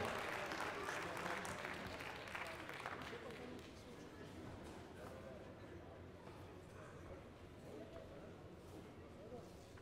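Applause from a crowd at a boxing event in Parc Saint-Paul, marking the end of the third and final round of a bout, strongest at the start and tapering to a steady lower patter, with voices mixed in.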